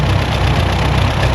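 A vintage David Brown tractor with a 12-speed gearbox idles close and loud, its engine giving a steady low rhythmic chug throughout.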